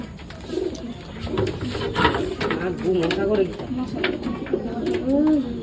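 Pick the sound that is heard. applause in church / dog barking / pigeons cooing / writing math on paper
pigeons cooing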